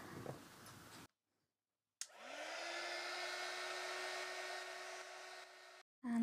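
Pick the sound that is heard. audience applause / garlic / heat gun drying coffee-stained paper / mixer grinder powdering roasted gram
heat gun drying coffee-stained paper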